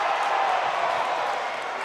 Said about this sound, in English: Crowd is up in arms over that.